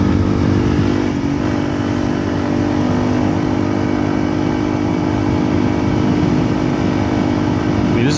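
Honda CRF300L rally-project motorcycle riding on a smooth, easy straight gravel road, its engine droning steadily and up close under heavy wind rush for the whole stretch.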